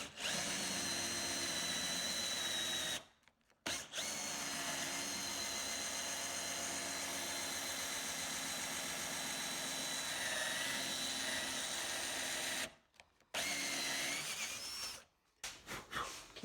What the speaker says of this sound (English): can't say it's a bad drill.